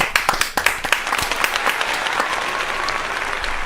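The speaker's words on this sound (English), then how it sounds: "Let's give a round of applause." Loud applause from a group, sharp individual claps at first blending into a dense, steady roar of clapping.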